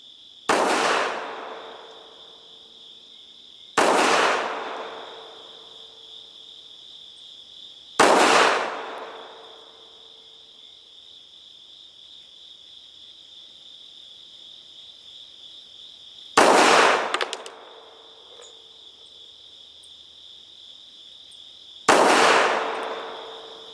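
Five sharp pistol shots from a Beretta M1934-C fired at a target, spaced several seconds apart, each a loud crack with a ringing tail over a constant high-pitched hiss.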